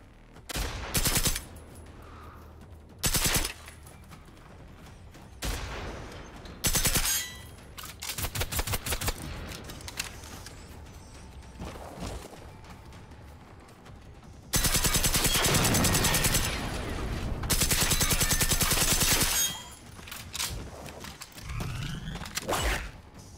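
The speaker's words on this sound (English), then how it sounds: "Wait, who's shooting at me now?" Heavy gunfire in the robot-fighting shooter Generation Zero: loud sharp shots and rattling automatic bursts come in irregular clusters, with a long sustained barrage near the middle and mechanical clicks between volleys.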